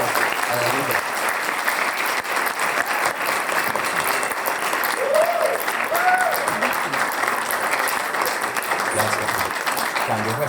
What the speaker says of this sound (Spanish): Por favor, recibamos con un gran aplauso a Bianca Grollo.